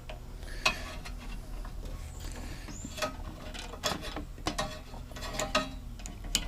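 Ratchet with a 13mm socket undoing bolts on a lawnmower engine during an engine swap, with quiet irregular clicking and ticking and occasional metallic knocks, close up.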